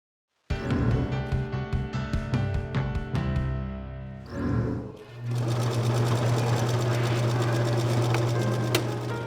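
A sewing machine stitching dresses, first in quick bursts of rapid needle clatter, then a short pause and a long, fast, continuous run with a steady mechanical whir, close and loud.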